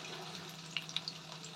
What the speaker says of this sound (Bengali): আমার এখানে লাল লাল করে আমি পটল ভেজে তুলে নিচ্ছি।